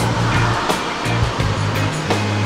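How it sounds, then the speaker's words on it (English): Water pours over a dam-like waterfall beside a parking lot at Harrisville Lake in Wharton State Forest, New Jersey, a loud, steady rushing roar with a low rumble pulsing beneath it. "There's like a dam or a waterfall on both sides of this parking lot."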